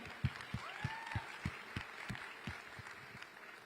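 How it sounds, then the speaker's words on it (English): A round of applause from a packed tech week audience in Mumbai, sparse and moderately faint, with rhythmic low thumps and a gliding tone beneath the clapping. "let's have another round of applause for the chairman of Jio, Akash Ambani."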